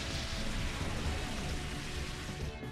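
Rain Dance rainfall in the Pokemon XD game, a soft, steady hiss of falling rain with no breaks, quiet and even throughout.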